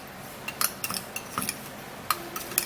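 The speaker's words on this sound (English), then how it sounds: "and then we'll stir it together" A spoon scrapes and clinks against a bowl while dry milk is stirred into a skin mask mixture, giving several light, uneven taps and scrapes close by over a quiet background.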